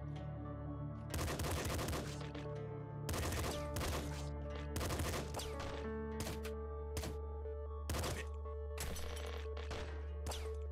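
Rapid bursts of SMG fire in the Nuclear Throne video game, with loud clustered volleys punctuated by brief pauses over a steady low game hum.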